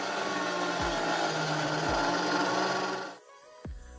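A Peco model railway turntable motor runs noisily with a steady grinding, rasping whir, broken by soft periodic clunks, then cuts out near the end leaving a final knock.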